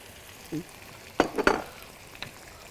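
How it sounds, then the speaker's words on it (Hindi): Bone-in chicken with whole spices (black cardamom, cinnamon, cloves) going into a hot pan for black pepper chicken, giving a brief loud sizzle burst and stirring scrapes, then fading to a low hiss. "ये भी मैं इसके साथ ही डाल रहा हूँ ठीक है और इसके साथ हमने चिकन ऐड कर देना"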